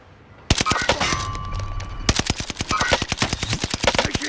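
Sustained machine gun fire in Call of Duty: Modern Warfare, rapid bursts of close, loud shots crackling in a steady rhythm after a brief quiet start, with a tone beeping faintly in the background.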